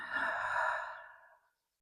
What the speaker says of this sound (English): Exhale softly from the mouth.